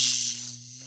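A voice imitates an airplane with one sustained, breathy hiss that is strong at the start and slowly fades over just under a second, heard close and alone.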